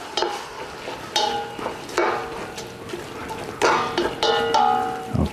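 Vegetables for a vegetarian lentil soup being stirred in a pot, with a sizzling background and repeated scraping, clinking strokes of the spoon against the pot at a steady pace, close and clear, no speech.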